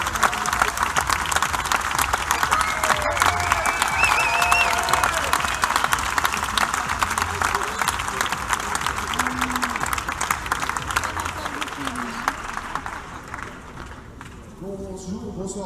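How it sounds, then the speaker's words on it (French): Rugby audience applauding Union Bordeaux-Bègles manager Raphaël Ibanez at the club's 2016-2017 squad presentation: dense, sustained clapping from a large crowd with murmured voices, easing slightly toward the end. "Je vous demande de l'applaudir bien fort."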